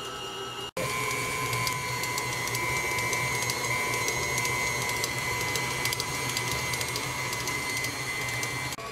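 A KitchenAid stand mixer creaming cake batter for a coconut cake, a steady motor whine with a constant mechanical hum that starts after a brief pause and runs evenly and loudly.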